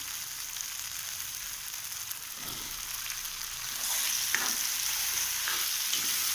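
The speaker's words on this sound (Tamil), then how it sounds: "இப்போ காளான் போடணும்." Mushrooms frying in a pan with onion and tomato for a spicy South Indian mushroom masala, a constant sizzle that grows louder partway through, with scraping stirs from a spoon.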